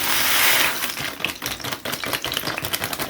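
Dry orzo pasta poured from a bag into a pot with ghee, starting with a steady rushing pour and then breaking into a rapid rattling patter of small grains landing and settling.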